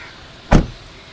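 A single solid thud as a car door swings shut on a Volkswagen Taigun or Toyota Hyryder SUV, close and punchy against a quiet background with no voices.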